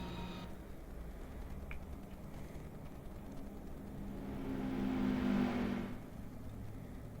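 A Mazda RX-7 engine in the Gran Turismo 4 racing game hums faintly and steadily, then swells into a brief rev before settling back down.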